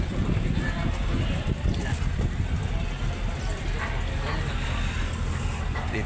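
Big fishing boat engine at the Lucena fishport, a loud, rough, continuous low rumble close by, buffeted by wind noise, with people talking over it.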